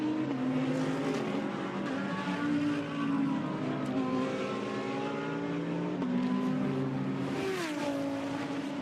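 A race car speeds past during a GT qualifying session, its engine note rising and falling with gear changes over continuous loud track and crowd ambience, no talk.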